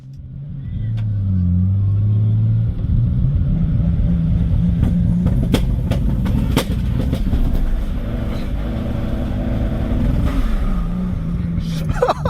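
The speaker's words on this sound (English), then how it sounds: "finally the car was ready to drive again, and so we did a test drive" BMW E30 fitted with a turbo conversion, running at 1 bar boost on a test drive, loud and close, with a steady engine drone that rises and falls as it revs, continuous throughout.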